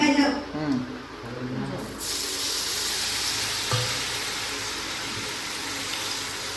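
Someone speaks briefly, then a spoonful of cumin seeds hits hot oil for handvo and a loud, sudden sizzling hiss starts and carries on steadily up close.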